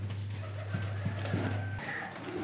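Royal Teddy baby pigeons coo softly in a few low, pulsing notes close by, over a steady low hum and faint background bird calls.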